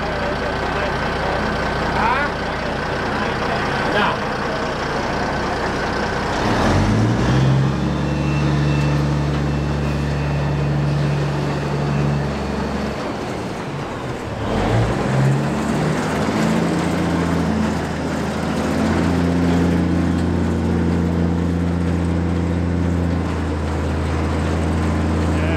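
The tailgate of a new Mas W9 silage trailer is raised hydraulically, with a loud, steady engine and hydraulic drone whose pitch shifts and strains as the load changes, and people talking over it.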